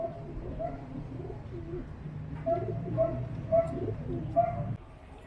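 Young pigeons in a loft give soft, low, repeated cooing calls that overlap at close range, with a few brief louder notes over a gentle background murmur.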